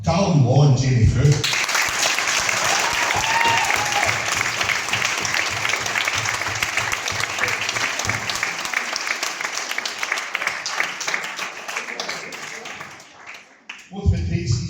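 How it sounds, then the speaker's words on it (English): A room at a youth football club's player of the year awards night applauds two players, a loud, dense round of clapping that holds steady for about twelve seconds before tapering off. "if we could start with a round of applause for Callum Law and Jamie Frew."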